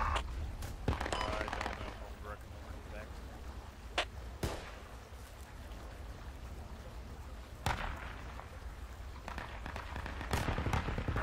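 Mortar explosions in a military video game land in a sharp sequence of heavy blasts and impacts over constant battlefield rumble, with some bursts standing out loudly against the busy background.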